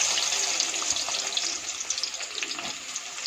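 Garlic drops into hot oil and fries with a steady, dense sizzle and crackle that runs close and loud without a break.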